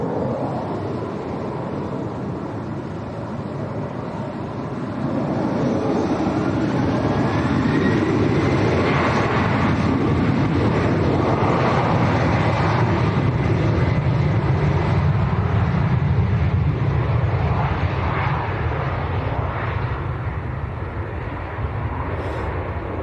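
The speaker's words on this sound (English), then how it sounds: "Here we go then, KLM to Amsterdam." A KLM airliner departing Leeds Bradford Airport for Amsterdam builds into a loud, sustained engine roar that rises after a few seconds and stays strong, buffeted by wind noise on the microphone, with no talking.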